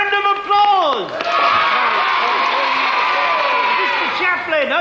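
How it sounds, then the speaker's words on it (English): Audience at a show with a children's clown entertainer breaks into applause and cheering, a steady loud crowd noise with whoops, while an announcer's voice carries over it at the start and end. "Round of applause."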